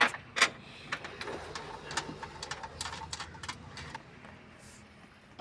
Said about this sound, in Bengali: এবার বাকি স্ক্রু টাইট করা হবে।